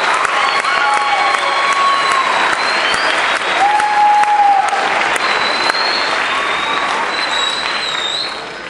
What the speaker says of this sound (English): You can give all of these ladies and gentlemen a big round of applause.